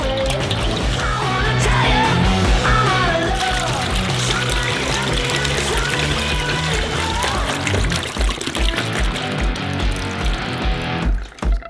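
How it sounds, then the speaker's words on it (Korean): Liquid eggs from cartons holding twenty eggs each pour in a long, steady, splashing stream into a large bowl for a giant Kinder Surprise cream, loud and close throughout. "팩에 든 달걀을 열고 대접에 부어주세요."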